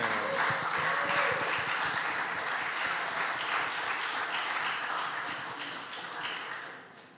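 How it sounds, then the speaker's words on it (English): An audience claps warmly in sustained applause that slowly fades toward the end. "please give me a warm round of applause for Meadow Telekson."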